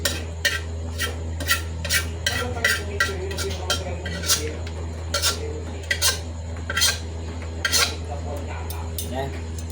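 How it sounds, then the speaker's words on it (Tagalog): A metal kawali frying pan being shifted and stirred, with a series of sharp clanks and scrapes of metal on metal at irregular intervals over a low steady hum, close by and without speech. "Ayusin muna natin yung kawali natin guys."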